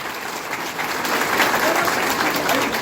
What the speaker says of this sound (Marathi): आपण जोरात टाळ्या वाजायच्या आहेत